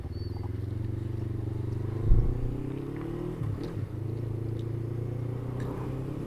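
A motorcycle idles and rides slowly through London town traffic, its engine a steady low drone that shifts pitch briefly with a short blip of throttle partway through, close and continuous with no talk.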